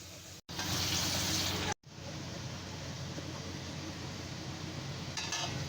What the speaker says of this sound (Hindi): इसमें हम शामिल करेंगे 1 गिलास पानी